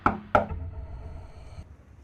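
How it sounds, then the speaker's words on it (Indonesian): Two sharp knocks on a house door, close and clear, a fraction of a second apart. A short ringing decay follows into quiet room tone. No voices. "Pria tua itu kemudian mencoba mengetuk pintu rumahnya."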